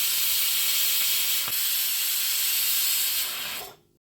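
A kitchen pressure cooker vents steam in a loud, continuous hiss. The hiss holds steady for several seconds, then tapers off and stops abruptly.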